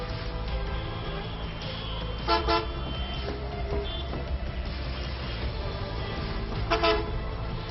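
Dense city traffic roars steadily throughout, with several car horns honking and tooting over it, including a clear burst of honks near the middle and another toward the end.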